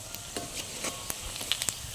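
Chicken koja pieces fry in oil for pickle, a soft continuous sizzle broken by scattered crackles and a few sharp pops over two seconds.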